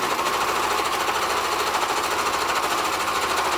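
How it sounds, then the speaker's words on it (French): A sewing machine stitches the sides of a fabric face mask pouch, running at a steady, continuous, fast needle rhythm that stays loud and close throughout with no pauses. "Maintenant, on va coudre les côtés de la pochette."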